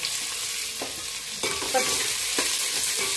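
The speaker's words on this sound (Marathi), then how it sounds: "आपण इथं कांदा आणि मिरची हे दोन्ही सोबतच टाकायचे, जेणेकरून मिरची पण आपल्याला मस्तपैकी भाजली जाते" Onion and green chili frying with whole spices in hot oil, hissing as a steady broadband sizzle throughout, with a few stirring scrapes and soft knocks rising above it.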